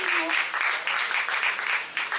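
Comedy-show crowd clapping steadily together for the comics in the audience, a dense rippling burst of applause that fills the whole stretch at an even loudness, with a brief vocal sound at the very start.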